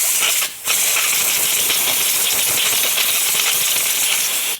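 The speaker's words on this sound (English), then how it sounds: "We're gonna get in here, and then with compressed air," Compressed air blasts through the shims of a KTM 300XC rear shock during a rebuild, a loud continuous hiss with one brief break near the start, close and steady with no talk.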